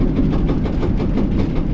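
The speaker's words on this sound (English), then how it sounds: "That is a shoe rattling bad. It's in the rear." A rear brake shoe rattling badly on a 1957 Chevrolet four-door during a drive, heard as a steady, loud, train-like clattering roar filling the whole moment without talk.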